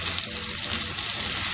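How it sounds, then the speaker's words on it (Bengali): Potatoes fry in a hot pan while being stirred, a dense loud sizzle with scraping stir motions running continuously. "সেই আলুটা দিয়ে দিলাম। আলুটা দিয়ে নাড়িয়ে তাকে আমি"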